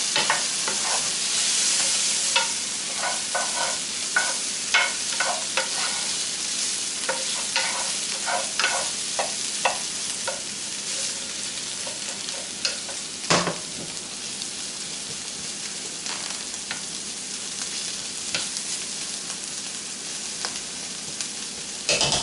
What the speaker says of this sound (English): So I'm going to hit it with a little dash of the Worcestershire sauce.